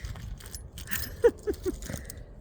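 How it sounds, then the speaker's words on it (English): Keys jangle on an overloaded keychain in a short burst of bright metallic clinks, a few distinct rattles close by, then fade, with faint outdoor background underneath. "Oh, I got too many keys on the keychain."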